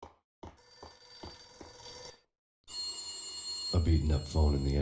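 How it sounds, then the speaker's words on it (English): A beaten-up telephone in an entrance hall in the video game Max Payne rings in short repeated bursts, then pauses, followed by more ringing with a voice speaking over it. "A beaten up phone in the entrance hall was ringing."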